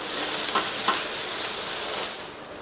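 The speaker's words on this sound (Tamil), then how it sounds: "கடைசியாக பொடியாக கட் பண்ண கொத்தமல்லி இலைகள் கொஞ்சம் சேர்த்துட்டு நல்லா மிக்ஸ் பண்ணி விட்டுட்டு ஸ்டவ் ஆஃப் பண்ணிடலாம்" Beetroot, carrot and green pea stir-fry being stirred in a pan, a steady soft sizzle with a couple of faint spatula scrapes, close and alone without talk.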